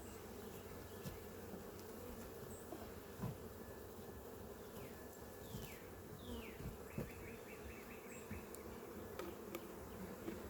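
Honeybees buzz around an open beehive during hive work, a quiet continuous hum with individual bees passing close by now and then, no voices.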